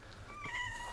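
A cat outdoors in a village gives a faint, thin meow with a rising, drawn-out tone over quiet background.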